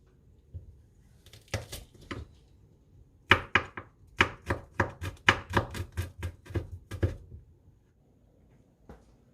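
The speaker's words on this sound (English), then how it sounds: "I'm gonna 切大蒜 into small pieces." A knife chops garlic into small pieces on a cutting board, a few scattered strikes then a quick run of about a dozen sharp, evenly spaced chops, close and fairly loud with no talking.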